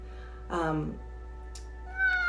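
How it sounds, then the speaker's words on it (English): A male house cat gives a single drawn-out meow with a rising, harmonic tone, then a second short, higher call follows, both close to the microphone over a low steady background hum. "here comes my cat, so he might meow"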